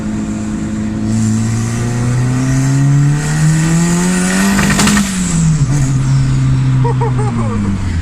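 A turbocharged Honda Civic D16 engine revs hard to high RPM, its rising and falling whine loud and close, breaking up near the top with a rich-sounding stutter; faint talk sits underneath.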